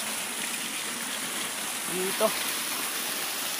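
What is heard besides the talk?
flowing water at Naglusong falls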